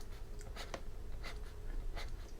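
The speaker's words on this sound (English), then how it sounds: "I'm going to write it over here" Chalk or marker strokes as code is written out by hand on a board, a few soft scratchy marks spaced irregularly over a steady low hum, fairly faint and close, with no talking.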